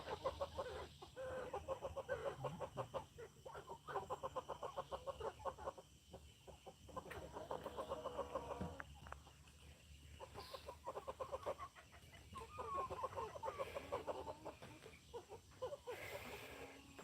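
Chickens cluck repeatedly in short bursts near their coop on a farm. The sound is faint and somewhat distant, with steady background noise and occasional louder calls.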